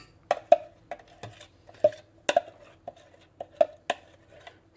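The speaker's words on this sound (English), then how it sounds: "Scraping it out." Pumpkin and applesauce scraped from a container into a mixing bowl, heard as a series of sharp, close knocks and scrapes of a utensil against the bowl in an uneven rhythm, with no talking.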